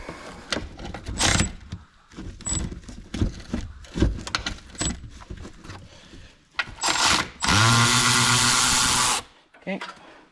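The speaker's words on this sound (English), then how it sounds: "I'm going to switch to the electric ratchet now and see if I can get this off." An electric ratchet whirs for about two seconds in one loud close burst while loosening a fitting on a 2002 Chevy 2500HD brake line, after clinking tools and handling noise with a voice speaking.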